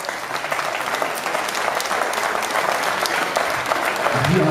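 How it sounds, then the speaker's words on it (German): A crowd at a professional boxing event in an Essen arena applauds steadily, a dense wash of clapping that holds for several seconds, with an announcer's voice faintly in the background. "Applaus auch für diesen Fight, meine Damen und Herren."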